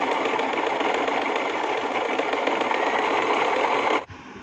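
A sewing machine runs straight, normal stitching along a cut fabric strip for a blouse, a loud, even, continuous mechanical whir up close that stops abruptly near the end.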